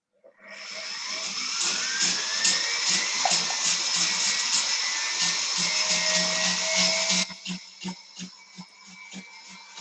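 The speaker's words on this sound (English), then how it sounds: "the mezzi wheel is just a really rough sanding wheel" Rough mizzy sanding wheel on a rotary tool grinding a silver ring, a steady high whine with a gritty, scraping texture that holds for several seconds, then breaks into short intermittent bursts as contact eases.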